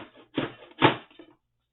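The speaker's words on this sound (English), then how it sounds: "I'm going to use my trimmer." Craft paper trimmer cutting, two short close scraping swipes a fraction of a second apart with faint clicks around them, alone in a quiet room.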